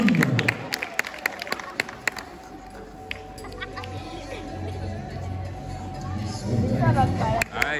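Audience clapping at a podium ceremony in Pornichet, a broad wash of applause mixed with crowd chatter and sharp louder claps, swelling again near the end.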